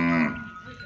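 A cross-breed dairy cow at a farm in Pakistan lets out a single loud, close moo that fades away within a second.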